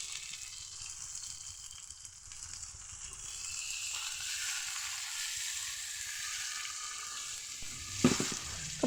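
Egg and onion fry in a pan for a poppy seed dish, giving a steady soft sizzle, then a brief louder splash and hiss near the end as the poppy paste water goes in. No talking.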